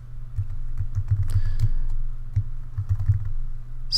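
Fingers type on a computer keyboard in a short, close burst of quick, uneven keystrokes with brief pauses.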